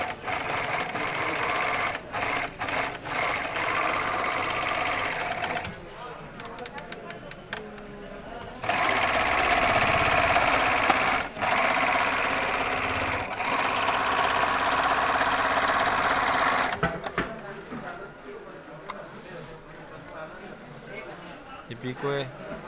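A Japanese-made Singer overlock sewing machine runs in loud mechanical bursts of several seconds, with pauses between them and a person talking nearby.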